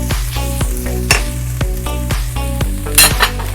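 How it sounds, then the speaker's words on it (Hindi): Vegetables and instant noodles stir-fried in a pan give a steady sizzle, with a spatula scraping and knocking against the metal in a quick, regular rhythm, close and fairly loud. "ये देखें हमारी सब्जियां जो हैं वो लाइटली फ्राई हो चुकी हैं।"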